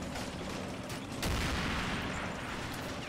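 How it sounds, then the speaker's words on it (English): Mortar shells burst in a World War II paratrooper hill assault in a video game, a muffled distant rumble of impacts with one heavier boom swelling midway, layered over continuous battlefield noise. "Supporting mortars hitting the first line of German defenders"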